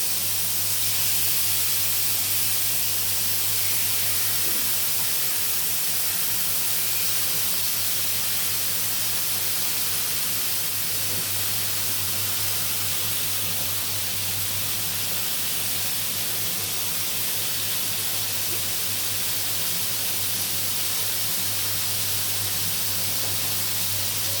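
Fish sizzling as it fries in a pan of hot oil, a steady, dense hiss that holds loud and unbroken for over twenty seconds with a low hum beneath and no talking.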